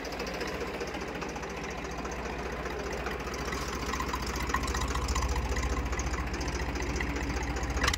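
An old 1998 Massey Ferguson 1035 DI diesel tractor idles with a steady, knocking rumble that stays close and constant throughout, growing slightly louder toward the end.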